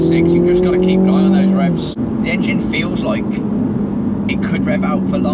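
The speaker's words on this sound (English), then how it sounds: "The engine feels like it could rev out for longer." A Mini GP3 revs hard out on a race track, its engine note climbing and falling in loud, close pulls, with a voice speaking over the noise.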